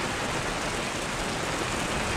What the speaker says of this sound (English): I see rain pouring down.